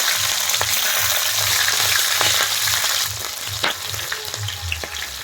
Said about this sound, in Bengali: তেলের উপর অল্প একটু পাঁচফোড়ন দিয়ে দিচ্ছি, একটা তেজপাতা দিয়ে দিলাম, ফেলে রাখা কাঁচা লঙ্কাগুলো দিয়ে দিচ্ছি,